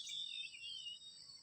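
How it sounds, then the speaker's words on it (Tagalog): Birds sing outdoors beside a garden, giving a faint, thin, continuous high-pitched chirping that stays at a distance throughout the short stretch, with no voices. "Mga ibon dyan."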